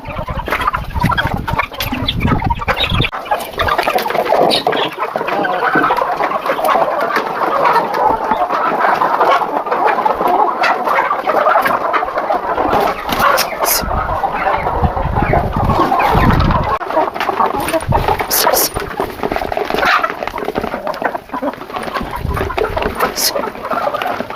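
Free-range country chickens cluck steadily while pecking at soft, moist feed, a dense busy chatter of several birds close by with occasional louder calls throughout.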